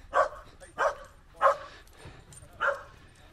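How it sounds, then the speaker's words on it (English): Four sharp dog barks at a moderate distance, spaced irregularly with short gaps between them, over quiet outdoor background on the Dorset coast. "lots of noisy dogs about today."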